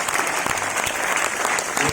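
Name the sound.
audience applause for a guest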